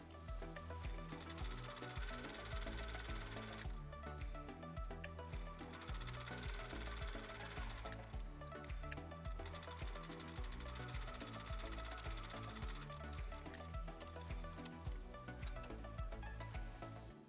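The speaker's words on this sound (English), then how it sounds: "Sew around the top edge using a 1/4 of an inch seam allowance to secure the lining and outer fabric" A sewing machine stitches lining and outer fabric together around the top edge of a small fabric-scrap notion basket with a quarter-inch seam, running steadily and continuously at close range with no talk.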